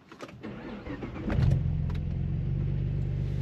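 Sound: Saab 9-3 2.8T V6 engine starting

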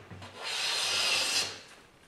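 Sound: hand plane cutting a thin wood shaving

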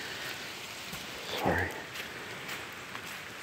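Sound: rain falling outdoors

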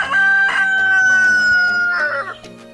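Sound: native backyard chicken crowing

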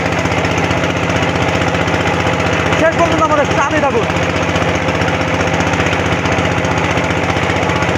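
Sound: engine-powered racing boats Al Madina Express and New Uronto Bolaka

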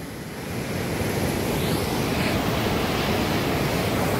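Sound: Pikuwa river flowing

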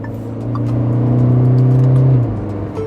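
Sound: Tata Curvv diesel engine revving as DCT paddle shifters change gear

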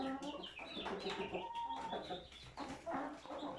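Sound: chickens and rooster clucking

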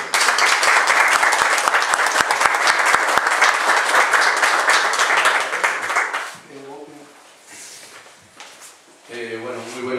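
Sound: applause from audience

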